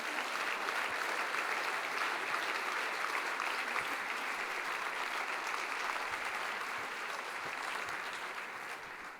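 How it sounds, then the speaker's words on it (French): Sustained audience applause at a formal academic opening ceremony, a dense steady wash of many hands clapping throughout, tapering slightly toward the end. "Je vous propose de les applaudir."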